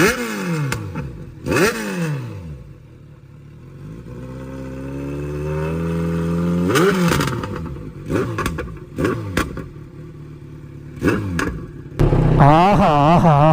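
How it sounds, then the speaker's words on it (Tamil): Motorcycle fitted with a full system exhaust revving repeatedly, loud sharp blips rising and falling with an idle between them, up close, ending in a sustained high rev. "எக்ஸாஸ்ட் நோட் கேளுங்க எப்படி இருக்குன்னு சொல்லி"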